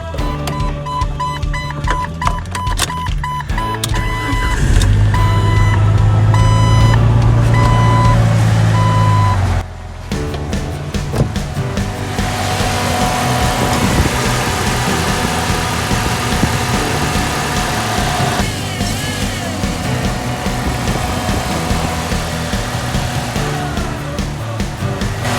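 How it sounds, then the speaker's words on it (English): A 1997 Jeep Cherokee with the 4.0 engine, just fitted with a new throttle position sensor, cranks, starts and settles into a steady, smooth idle, with intermittent electronic beeping early on. "It's idling nice and smooth now."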